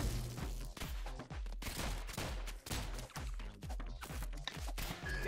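Rapid bursts of video game gunfire from ROUNDS, punchy shots fired in quick succession with short breaks between volleys, loud and close.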